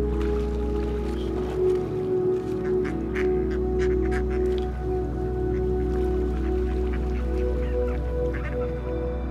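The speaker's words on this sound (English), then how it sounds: "I could see more ducks joining the party" Ducks quack and honk in scattered bursts over a steady low rumble at a park lake, several birds calling irregularly at moderate distance.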